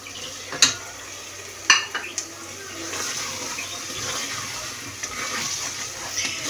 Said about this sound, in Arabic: انا غنرمي قلت لها نرمي سميتها هنا الكبده ديال الدجاج.